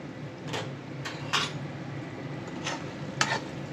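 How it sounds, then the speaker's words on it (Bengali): Dried fish (shutki) being stir-fried in a pan: a soft steady sizzle with several scraping strokes of a spatula against the pan, close and fairly quiet, with no talk. "এখন কষিয়ে কষিয়ে সুটকিটা রান্না করা হবে"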